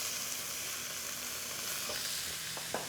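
Garlic and broccolini sizzle steadily in a hot pan, a continuous bright frying hiss with a few soft clinks of a utensil near the end, close and alone without talk.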